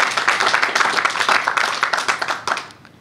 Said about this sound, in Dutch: Applaus, dames en heren.